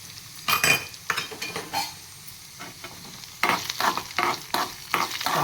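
Cumin and spices roasting in a pan for pumpkin sambar, sizzling softly while a metal spoon stirs and scrapes in repeated bursts, clinking against the pan.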